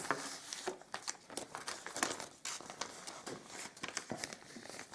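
Thin plastic packaging from a COVID test kit crinkles and crackles up close in quick irregular bursts, fairly quiet, with no speech over it.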